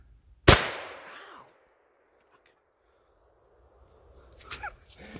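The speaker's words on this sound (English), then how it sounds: "We're going to find out together if you can shoot slugs out of it." A cheap gun fires a lead slug with a single sharp, loud crack that rings briefly into silence, followed a few seconds later by faint handling noises.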